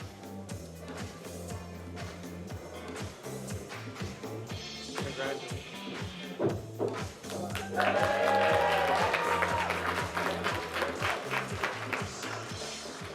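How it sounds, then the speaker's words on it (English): Applause rises from the audience at the 2021 Environmental Media Association Awards over steady band music, swelling louder in the second half before thinning out. "It's always so awkward when the applause stops before you get here."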